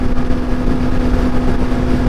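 A superbike engine holding high revs around 8,000 RPM while riding on tour, a loud, steady, buzzing drone with wind rush running throughout and no talking.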